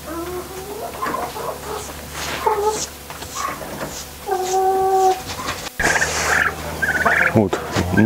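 Farm turkeys gobble loudly up close in several bursts of rattling calls, with overlapping fowl clucks and squawks and no talk.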